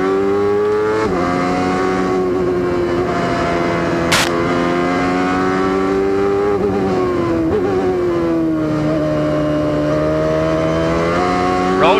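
A CART race car in 1995 at Elkhart Lake road course screams loudly and continuously, its high engine note rising and falling through gear changes as it races, with other cars' engines layered in.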